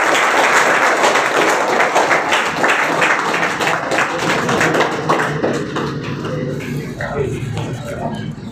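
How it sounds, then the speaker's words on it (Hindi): An audience at a recruitment honour ceremony applauds in a dense, steady burst of clapping that gradually fades toward the end. "जोरदार तालियां इनके लिए।"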